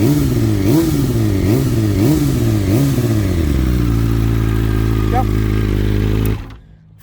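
A cold-started BMW M 1000 RR sport motorcycle with Akrapovič exhaust blips through several quick revs, rising and falling sharply, then settles into a steady idle before cutting off abruptly.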